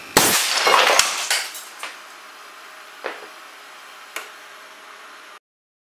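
An air cannon at 400 psi fires an 80-grain glass marble through a 72-inch, 6.25-caliber barrel into a Whipple shield target, giving a sharp loud blast and clatter followed by several fainter isolated metallic ticks and clinks.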